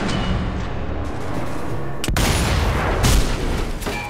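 A sniper rifle shot in Sniper Elite V2 Remastered booms sharply amid loud continuous game battle noise, with another heavy blast following a second later.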